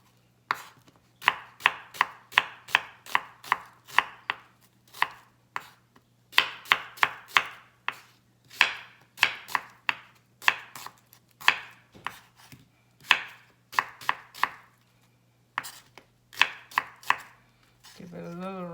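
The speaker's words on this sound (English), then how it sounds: "Give it a little rough chop." A knife rough-chops shallot on a board in quick bursts of sharp taps separated by short pauses, with a low steady hum underneath, while preparing Cambodian green curry with catfish fillet.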